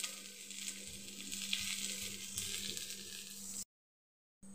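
Amla (Indian gooseberry) pieces fry in a pan with a steady, close sizzle over a low hum; the sound cuts to silence near the end, then briefly resumes.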